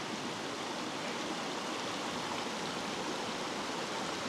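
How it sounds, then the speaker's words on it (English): A creek flows steadily beside a trail bridge crossing, a constant soft rushing wash of water heard fairly faint and even throughout, with no voices. "Wow, it's nice to see water flowing."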